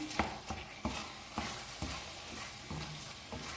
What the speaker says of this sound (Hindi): अब इसको डालते हैं मसाले के अंदर, मिक्स करते हैं इसको मसाले में।